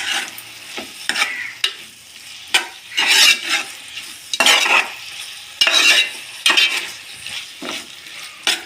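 A spoon scraping and stirring tomato and onion pieces with chili powder in a pan, repeated bursts of scraping over a low sizzle, close up, with no voices.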